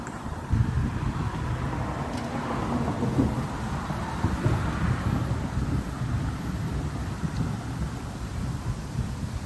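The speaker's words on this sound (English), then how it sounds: "Oh, wind's starting to pick up a bit." Strong wind gusting before a severe thunderstorm with a massive shelf cloud, roaring steadily across the microphone with a low rumble throughout.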